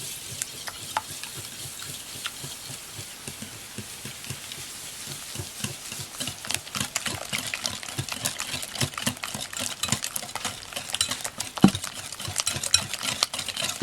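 A bread pudding mixture is beaten in a bowl, giving a fast, rhythmic run of scraping and tapping strokes that grows louder and busier toward the end, close up with no talking.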